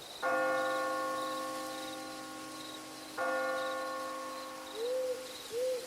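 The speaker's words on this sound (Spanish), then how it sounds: "El sonido de la campana era más fuerte a cada paso" A church bell tolls twice with long ringing decays, followed by a couple of soft hooting calls, alongside a faint chirping in the background.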